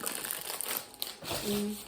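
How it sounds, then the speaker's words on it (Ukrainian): A small paper gift bag being handled, soft crinkling and rustling up close, fairly quiet, with a brief tonal squeak near the end. "Купила такий пакетик, сюди я положу подарунок"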